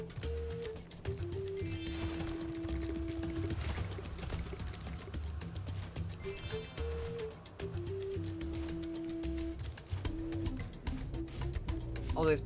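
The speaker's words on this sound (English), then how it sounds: "Oh, there's birds up there." Birds coo repeatedly in Spyro Year of the Dragon, a soft low cooing call recurring in phrases over a faint game background, fairly quiet and distant.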